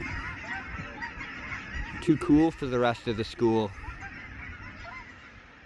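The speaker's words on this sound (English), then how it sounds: "This is the exclusive goose club." Geese honk in a short burst of several loud calls in the middle, nearby and outdoors, with a person talking over them.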